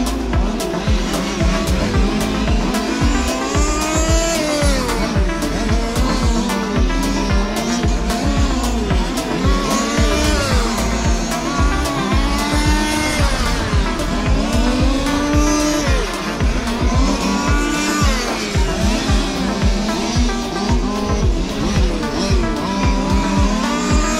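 Large-scale 1:5 RC model cars race around a club track at Craigavon Model Car Club, their loud, buzzing engines rising and falling continuously as they pass close by, with repeated tire squeals and quick revving throughout.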